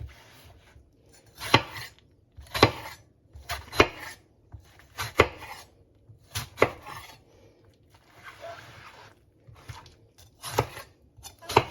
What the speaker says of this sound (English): I'm going to slice this into slices today